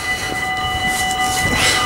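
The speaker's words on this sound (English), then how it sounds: "let's go show you guys a Dutch train, shall we?" A Dutch train rolls past close by, producing a loud, steady roar of wheels and rail noise with a sustained high whine running through it.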